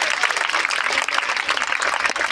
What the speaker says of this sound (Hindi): इनके लिए भी एक बार जोरदार तालियां बजा दीजिए।